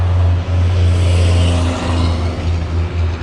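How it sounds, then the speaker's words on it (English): Cars drive past on a nearby road, a loud, steady engine and tire rumble swelling and easing as each vehicle goes by, with no talking. "Waiting for these cars to drive by."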